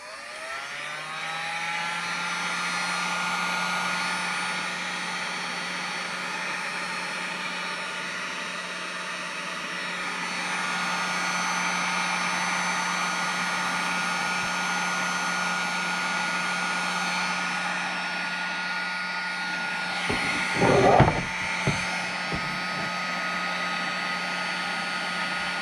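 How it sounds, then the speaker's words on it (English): Steady, loud blowing hiss of a heat gun warming the plastic edge of a car headlight during an Audi B7 headlight mod, running continuously with a few brief handling knocks near the end. "we're going to go around with a heat gun and just kind of go around the edge"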